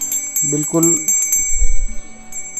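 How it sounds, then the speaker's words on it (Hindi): A brass puja bell gives a bright, sustained metallic ring that lingers as a steady shimmering tone, while someone briefly speaks over it. "ये पूजा की घंटी। आप इसकी आवाज़ सुन सकते हैं"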